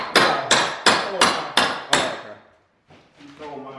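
Six evenly spaced, sharp hammer blows ring out loud and close at a concrete slab job site, each strike decaying quickly, followed by a brief pause and softer clatter.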